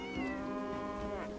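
Cat in the video game Bellwright giving one long, drawn-out meow with a rising then falling pitch, fairly close and clear, alone without speech.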